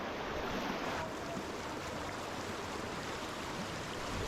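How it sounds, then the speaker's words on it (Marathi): Steady rushing of a stream flowing from a waterfall, close and even, a continuous wash with no voices. "धबधब्यापासून वाहून येणारं पाणी इकडून पुढे मार्गक्रमण करत आहे"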